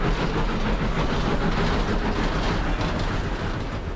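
A modern steam locomotive fired with wood pellets, heard as a loud, steady rumbling roar with rail noise, continuous and close throughout, with no speech.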